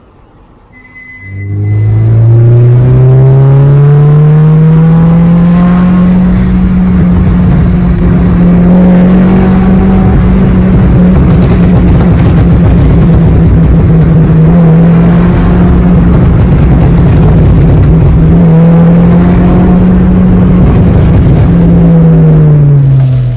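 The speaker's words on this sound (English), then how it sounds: "Suzuki Baleno, ECU remapped, lowered, Borla Spitfire exhaust." A loud, close Suzuki Baleno engine, ECU remapped with Borla Spitfire exhaust, revs up and holds a deep, throaty exhaust drone that rises and falls slightly, no talking.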